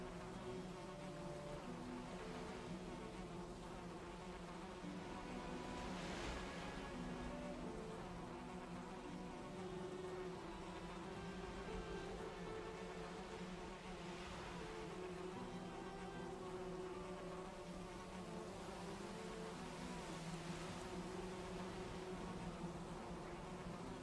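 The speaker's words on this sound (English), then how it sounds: "I feel like I'm hearing all these bees" Bees buzzing as steady game ambience in Valheim, a continuous low insect drone with faint swells, heard alone without talking.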